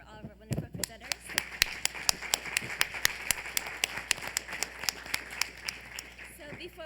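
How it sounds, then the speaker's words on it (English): Audience applause for conference presenters at a university research event, steady overlapping claps rolling on throughout, moderately near, with no talk over it. "One more last round of applause for all of our wonderful presenters"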